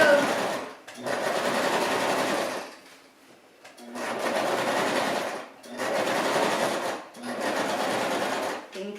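A sewing machine runs a wide seam along a decorative pillowcase in three separate bursts of steady whirring, with short quiet pauses between them.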